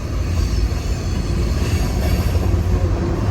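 Heavy CSX freight train with six locomotives passing close by, its cars grinding along in a continuous loud rumble, a thin wheel squeal running through the roar.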